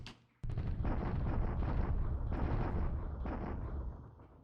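Artillery fire booms in the War in the Pacific game, a sudden heavy blast opening a sustained rumbling barrage with a few further thuds, loud and close.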